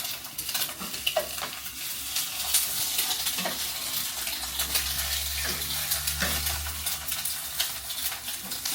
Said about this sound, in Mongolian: Надад өндөг шарж өгч байна.